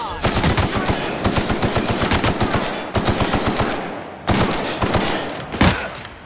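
Video game gunfire in The Outer Worlds: loud, rapid bursts of automatic shots in quick repeated volleys, broken by brief pauses and a few heavier single blasts near the end.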